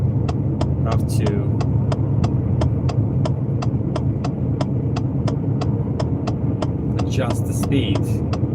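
In Euro Truck Simulator, a truck's engine drones low and steady while descending a bumpy 5% grade, with a regular ticking pulse repeating about twice a second and someone talking over it.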